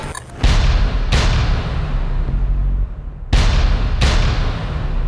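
Several loud booming gunshots in a TV crime drama, four sharp blasts in two spaced pairs, each ringing out over a steady low rumble, with no talking.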